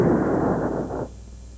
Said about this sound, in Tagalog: Doon galing ang putok.